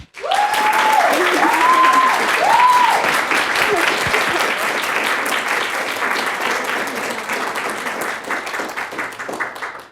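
A room full of people claps steadily for about ten seconds to welcome a speaker at a library talk, the applause rising quickly and tapering near the end while a voice speaks briefly over the opening.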